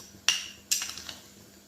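Two sharp metallic clinks of a spoon against a cooking pot while sugar is added for shahi tukre, the first a single tap and the second followed by a few lighter ticks, close and alone in a quiet kitchen.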